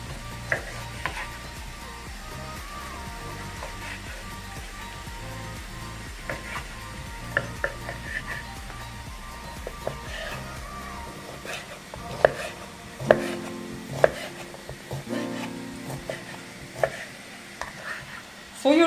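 Rapid knife chops of smoked sausage on a cutting board, with quick, busy strikes and kitchen sizzling beneath, then a few louder, sharper cuts near the end.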